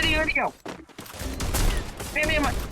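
Rapid bursts of gunfire in the Free Fire battle-royale video game during a tournament match, crackling volleys heard under a player's voice.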